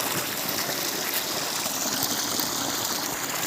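Water gushes steadily from a pump motor outlet, hot water in a wheat field, a constant loud rushing with no pauses and no voices.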